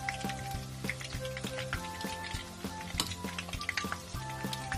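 Pork frying in a pan until golden brown, a dense, steady crackling sizzle close by with regular clinks and scrapes of utensils against the pan.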